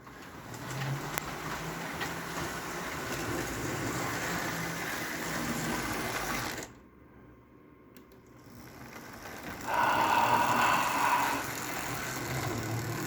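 A model train locomotive named Leon runs along its track with a steady, close electric motor whir. The motor briefly drops away to near silence, then returns with a higher-pitched whine.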